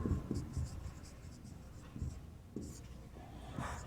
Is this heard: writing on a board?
yes